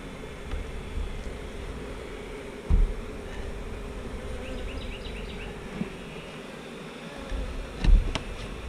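Agitated honey bees buzz steadily around an opened hive while a frame of larvae is pulled, a faint continuous drone with a few soft knocks.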